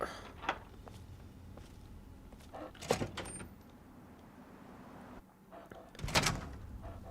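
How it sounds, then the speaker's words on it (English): Heavy outer doors unlock and slide open in Fallout 3, with a few separate mechanical clunks and hissing bursts spaced several seconds apart over a quiet room tone. "Unlocking outer doors."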